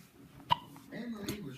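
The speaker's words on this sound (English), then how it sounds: "Oh, we got the hiccups." A nine-month-old baby gives a single short, sharp hiccup close by, with a fainter second one a moment later, amid quiet room noise and soft vocal sounds.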